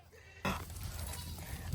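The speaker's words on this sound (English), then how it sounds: "Oh, come on, goats." Goats bleat close by in a loud, wavering call that starts abruptly and carries on for over a second over faint outdoor background noise.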